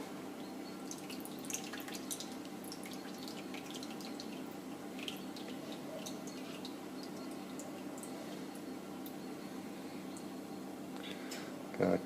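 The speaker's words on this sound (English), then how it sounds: "So, you drain it off a little." Water drains and drips off a sheet of handmade paper, a soft steady trickle with scattered small drips, close and quiet.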